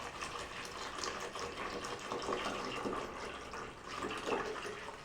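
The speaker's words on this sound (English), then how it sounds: "And then all I'm going to do is just fill it up, just about enough where I can submerge the filter." Tap water pouring into a Brita Maxtra filter jug, a steady soft splashing rush that fills the whole stretch at close range with small surges in level.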